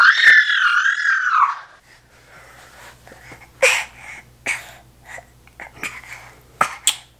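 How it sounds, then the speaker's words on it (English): A person screams in a high, wavering, loud cry lasting over a second indoors, followed by quiet with scattered bumps, clatters and breaths as household items are sorted nearby. "Why are you screaming?"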